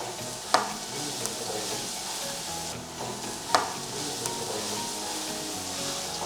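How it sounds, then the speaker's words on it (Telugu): Steady sizzling of bottle gourd pieces frying in oil, with a couple of sharp utensil knocks against the pan, close and continuous, no voices. "ఆయిల్లో ఇదంతా మంచిగా ఫ్రై అవ్వనివ్వండి"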